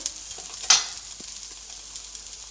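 Rice thalipattu cooks on a hot pan after being flipped, giving a steady close hiss of sizzling with one brief soft knock. No voices.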